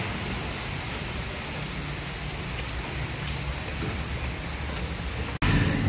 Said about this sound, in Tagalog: Parating na po ang malakas na bagyo.